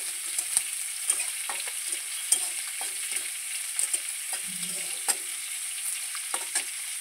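Fish and water lily stems frying side by side in two pans, a steady soft sizzle with scattered clinks and scrapes of a spatula stirring, close and alone with no talk.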